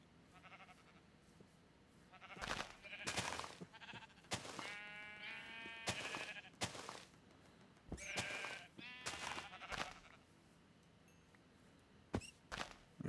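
Minecraft sheep bleat repeatedly, several wavering calls in quick succession, loud and close, mixed with soft footsteps and light clicks.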